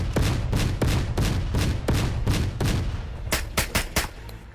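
Nine-bang stun grenade blasts in a VR shooter game: a rapid string of sharp, loud bangs, about a dozen in quick rhythmic succession, close and punchy with a short tail after the last.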